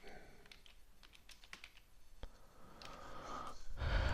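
Typing on a computer keyboard, a quiet run of irregular soft key taps, close but faint, followed by a rustle near the end.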